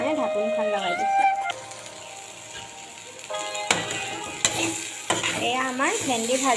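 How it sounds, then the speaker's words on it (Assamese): Okra and potatoes fry and get stirred in a pan for Assamese crispy bhendi fry, giving a steady sizzle with scraping stir strokes, a lid clatter near the middle, and someone speaking over parts of it. "এতিয়া অলপ টাইম ভাজি ল'ম।"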